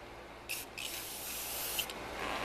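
Glossy enamel spray paint hisses from an aerosol can onto a running board tunnel near a truck bumper, a few short close bursts over a low background hum.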